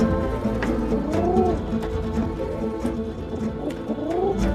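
Pigeons give soft, rolling coos in repeated phrases against a dense, steady background hum, with one bird's call rising clearly a few times.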